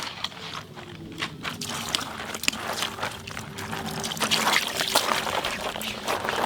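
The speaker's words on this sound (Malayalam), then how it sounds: "ഇച്ചിരി വെള്ളം ഒഴിക്കാം." A little water is poured, trickling and splashing near a boat alongside fresh fish, with irregular dribbles and faint knocks throughout and no talking.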